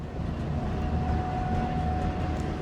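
A Union Pacific or BNSF container freight train on Cajon Pass rumbles past as a steady, low, continuous roar with a faint sustained tone above it, moderately distant and without talking.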